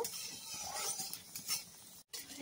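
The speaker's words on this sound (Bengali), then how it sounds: "ফোড়নটাকে একটু নাড়াচাড়া করে ভেজে নেব" Panch phoron spices with a bay leaf and a dried red chilli fry in hot oil while a spoon stirs and scrapes the pan, giving a soft steady sizzle with light metallic clinks, close and fairly quiet.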